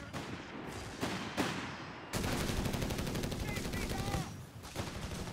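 Double mortar fire in a real-time strategy game, a series of sharp booming blasts and crackling explosions rolling over one another amid battle noise, at moderate volume with a voice faintly underneath.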